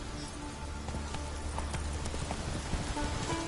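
Galloping horse hooves beat out a continuous rapid clip-clop rhythm in a PS4 game, steady and fairly loud against a dense background wash.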